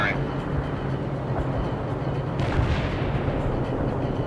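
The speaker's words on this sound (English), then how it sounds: "Artillery firing." Artillery fires in the World in Conflict video game: heavy, booming reports rumble beneath ongoing radio-style voices, with one stronger blast midway through.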